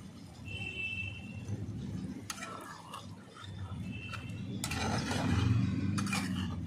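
A spoon scrapes and stirs chicken curry with yogurt in a pan, soft clinks and scraping strokes over a low sizzle that swells toward the end, with no talking.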